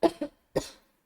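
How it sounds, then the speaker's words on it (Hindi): Three sharp coughs from a nearby person, two quick bursts followed by a third after a brief pause, with no talk around them. "अचानक से खांसी आ गई, सॉरी।"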